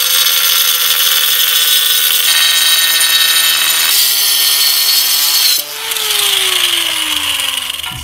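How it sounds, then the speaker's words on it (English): Angle grinder with a diamond bit cutting floor tile: a loud, steady high-pitched whine and grinding rasp, close by, with a short dip and pitch shift near the end as the cut changes. "I find the best tool sometimes is just an angle grinder with a diamond bit"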